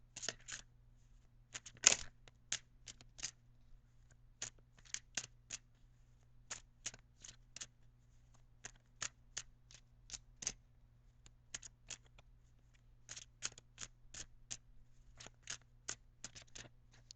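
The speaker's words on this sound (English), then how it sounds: "I'm now going to shuffle for your outcome card" Quiet, scattered papery flicks and snaps of cards being shuffled up close, over a low steady hum.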